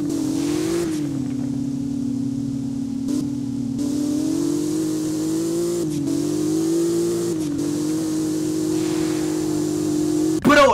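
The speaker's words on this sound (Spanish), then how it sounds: "Escuchen cómo suena el motor" Porsche engine revving in a racing video game, a steady harmonic engine drone that swells and eases through several throttle changes, loud and close with no talk over it.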